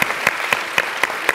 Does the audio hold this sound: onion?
no